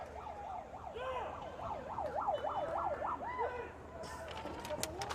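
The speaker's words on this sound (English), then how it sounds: "The siren goes off on a speaker." An emergency siren played over a loudspeaker at a boys' high school soccer game wails in a fast, steady up-and-down pattern for about three seconds, fairly distant, amid crowd noise and announcer talk.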